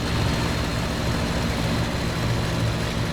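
Overheating piston aircraft engine in the IL-2 1946 combat flight game, a loud steady droning roar with a constant low hum, running alone with no talk.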